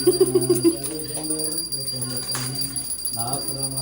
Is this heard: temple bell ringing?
yes